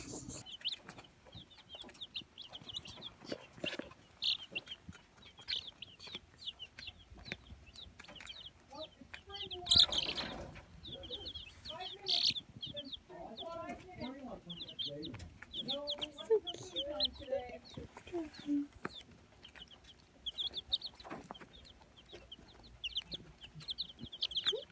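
Baby chicks peep in a farm supply store, a dense chorus of high, rapid chirps throughout, with occasional clucks from older fowl and people chatting nearby.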